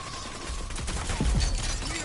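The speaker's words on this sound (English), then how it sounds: "They're both shooting at me." Gunfire in the shooter Rogue Company: a dense, muffled rattle of shots blurring into a continuous burst, mid-distance and fairly loud.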